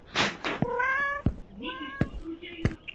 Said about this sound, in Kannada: ಬೆಕ್ಕು ಬಂತು.